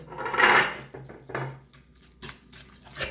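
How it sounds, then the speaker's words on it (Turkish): Eggs being mixed with finely grated kasar cheese in a bowl, giving a few scattered scraping and clinking knocks of a utensil against the dish. There is a louder burst at the start, then sparse lighter taps, with no talking. "3 adet yumurtamın içerisine 100 gram ince rendelenmiş kaşarımı ilave ediyorum ve karıştırıyorum."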